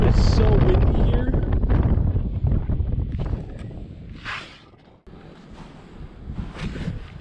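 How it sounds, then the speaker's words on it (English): Strong gusts in a light blizzard on the ice batter the microphone with loud, rumbling buffeting that eases midway and then picks up again in shorter bursts. "If you can hear me, it is so windy here."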